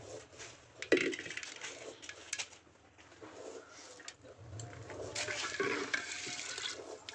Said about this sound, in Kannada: ಈಗ ನೆನಾಕಿರೋ ಕಾಳಿಗೆ ನೀರು ಉಯ್ತಾ ಇದ್ದೀವಿ